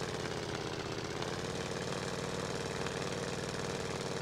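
A stolen car's engine runs steadily in the Free Fire battleground game, a constant mid-pitched hum with no talk over it.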